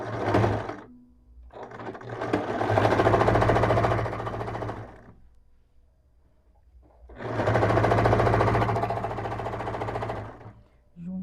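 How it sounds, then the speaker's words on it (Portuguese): A sewing machine stitches viscose fabric for a beach cover-up in two long, loud runs. A brief burst comes first and pauses fall between the runs, with no speech. "E vamos costurar."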